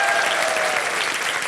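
A game-show studio audience claps in a brief, steady burst of applause, dense and fairly close.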